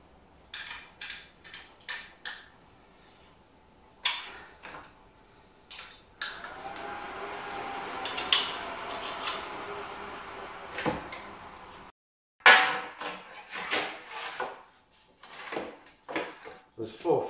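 Bracing bolts being tightened on a Symdeck sim-racing cockpit rig: a run of sharp clunks, knocks and metallic rattles from handling the frame and fixings, close and irregular, with short quiet gaps between bursts.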